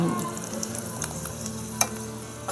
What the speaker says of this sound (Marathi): मोहरी टाकलं मोहरी थोडी कसा टलटल आवाज येतोय